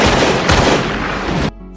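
A gunshot rings out during a tense movie confrontation, a loud sustained burst of blast and reverberant noise lasting over a second before cutting off abruptly.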